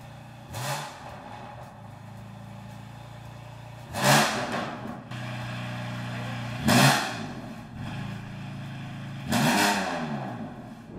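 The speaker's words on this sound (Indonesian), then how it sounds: "Penasaran banget nih sama suara di BMW M4 ini" A BMW M4 six-cylinder with a replaced muffler is blipped three times at idle, each sharp rev rising and falling back to a steady rumbling idle, close and fairly loud.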